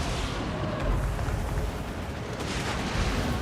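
A Hellstorm rocket battery firing in a Total War: Warhammer 2 battle with an Empire army, heard as a dense, continuous rumble of booms and bursts, loud and unbroken, with no distinct single launches standing out.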